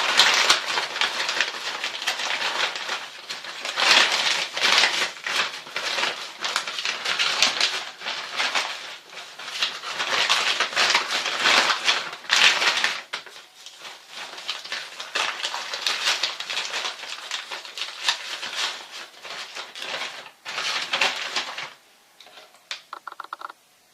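Fabric of a Nigerien headscarf being folded into pleats, close rustling and crinkling in irregular bursts that start and stop, fading into sparse handling noises near the end, with no talk.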